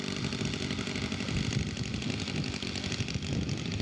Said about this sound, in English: Wayne Frederick taxiing out, ready for his first flight of the day.